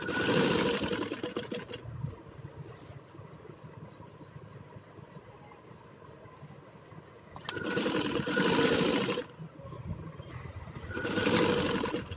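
A sewing machine stitching a net designer blouse runs in loud bursts at the start and again near the end, with a quieter whirring lull between.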